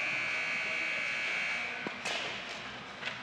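Ringing tone on a telephone call-in line to KSDR radio, a steady electronic buzz-like ring held for about two seconds, then faint clicks and a few short chirps as the line picks up; no talking.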